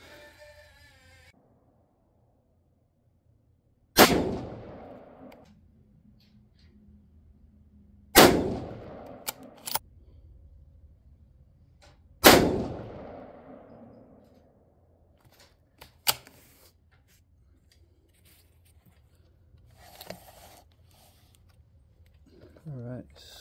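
6.5 Creedmoor rifle with a 24-inch barrel firing three loud, sharp gunshots spaced about four seconds apart, each with a decaying echo, followed by faint clicks and handling noises.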